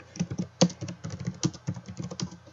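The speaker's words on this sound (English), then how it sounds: "I hear rapid typing now." Fast, uneven clatter of keys on a computer keyboard, close and fairly quiet, with a dense string of light taps and an occasional harder keystroke.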